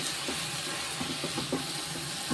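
Tomatoes and onions with turmeric and salt sauté in a pan, giving a continuous hissing sizzle with a few soft clicking scrapes of stirring, close and steady.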